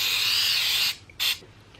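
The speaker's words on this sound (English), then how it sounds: "We're gonna give it a little spray in the bottom." Cooking spray hisses into the bottom of a 6-inch cast iron skillet in a close, steady burst of nearly a second, then a second short spritz follows.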